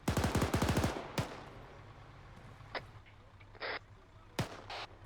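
A rapid burst of automatic gunfire opens, followed by a single shot and then scattered distant pops and cracks against quiet.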